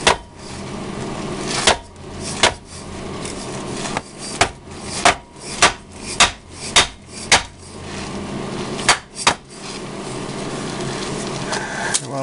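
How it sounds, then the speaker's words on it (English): A plastic dead blow mallet strikes the front differential cover of a 1996 Jeep Cherokee XJ in about a dozen sharp, irregularly spaced knocks, loud and close, over a steady background hum. "now we're going to take the dead blow hammer, just a plastic mallet,"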